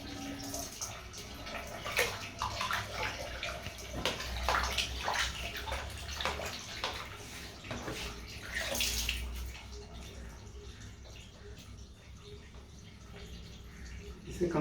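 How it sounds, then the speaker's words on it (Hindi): Water sloshes and splashes as a homemade aquarium filter sponge is pressed and rinsed by hand, with repeated squishing bursts and dribbling, fairly close and moderate in level. "ये पूरे फिल्टर को ऐसे ऐसे करके इसे प्रेस कर करके सारा साफ करना पड़ेगा।"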